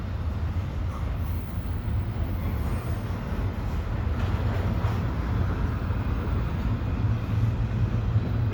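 A three-engine CPKC westbound intermodal freight train rolls past at night at Dorval, a steady, loud low rumble of rail cars that holds for the whole stretch with no pause.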